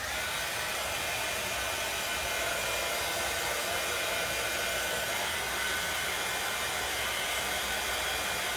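A hair dryer blows steadily on a wood craft stick pumpkin, a loud continuous broadband whoosh held evenly throughout with no talking.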